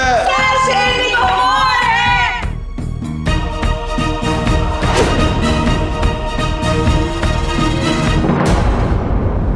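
After a brief musical sting, a studio audience at a family game competition breaks into loud applause with whoops and shouts for the winning pair, a dense burst of clapping that carries on for several seconds before fading.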